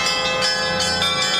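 Church bells ring continuously during a religious procession in Bryansk, a dense, loud, reverberant wash of overlapping tolls heard alone without talking.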